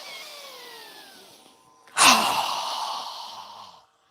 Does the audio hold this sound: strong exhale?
yes